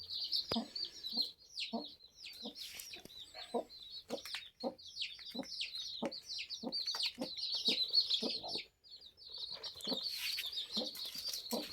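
Chickens cluck repeatedly in a farm coop, a steady run of short, close calls with occasional wing flaps and bird chatter throughout.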